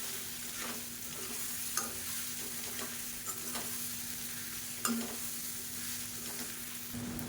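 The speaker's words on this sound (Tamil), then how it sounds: "தேங்காய் கொத்தமல்லி புதினா அந்த மசாலாவை சேர்த்துக்கலாம் சேர்த்து லேசாக ஒரு பரட்டு பரட்டி விட்டுட்டு" Kozhukattai dumplings tossed with a coconut, mint and coriander masala in a pan: a steady soft sizzle runs throughout, with occasional sharper spatula scrapes and taps against the pan and no talking.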